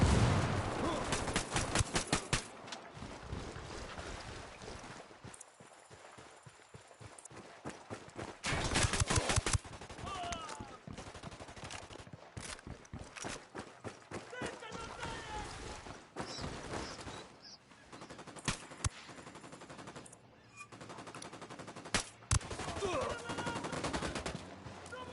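Bursts of gunfire from the Ghost Recon Wildlands video game come in rapid automatic volleys and scattered single shots over about twenty-five seconds, loud and dense at times, with brief pauses between exchanges.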